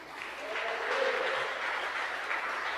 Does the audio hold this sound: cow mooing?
no